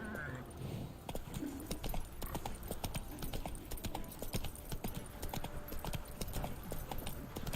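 Horse hooves clip-clop in The Witcher 3 in a steady, close trotting rhythm that runs throughout, with faint voices now and then underneath.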